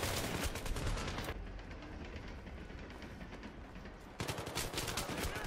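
Automatic weapon fire in the video game Battlefield 3, loud dense bursts at the start and again near the end, with a quieter stretch of rumbling background in between.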